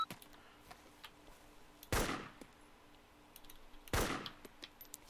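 Gunfire in the video game Arma II comes as two sharp, loud bursts about two seconds apart, each one decaying quickly into quiet background.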